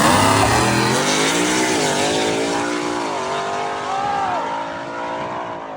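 An old truck makes a drag racing pass, its engine roaring loud and steady as it accelerates hard through the gears, the pitch climbing and dropping with each shift, with no talk over it.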